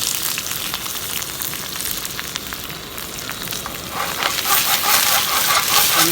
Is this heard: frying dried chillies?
yes